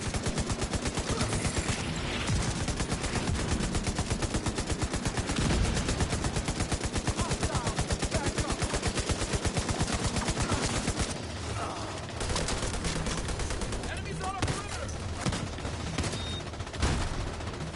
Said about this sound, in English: Mortar on my mark.